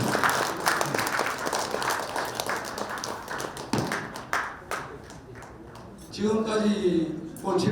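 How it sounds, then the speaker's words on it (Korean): A crowd at a school centennial commemorative report meeting applauds, uneven clapping with sharp individual claps that thins out midway, followed by someone speaking. "큰 박수 부탁드립니다."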